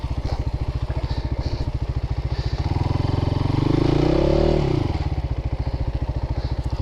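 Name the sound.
Christini AWD 250DS all-wheel-drive dirt bike engine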